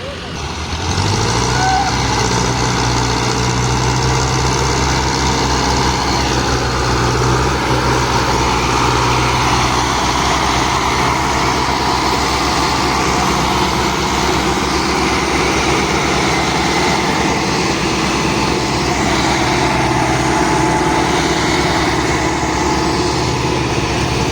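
A tractor engine drones loudly and steadily throughout while hauling an overloaded trailer of sand, a low labouring rumble that holds constant for the whole stretch.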